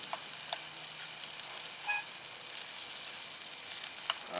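Spam fries in a pan at an outdoor camp, giving a steady close sizzle with a few faint clicks over a low background hum.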